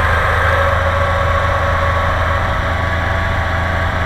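A VW T3 Vanagon's 1.9-litre engine, which runs rich, revs steadily and loudly with a deep low rumble and mechanical hum, holding a fairly even pitch throughout with no voices.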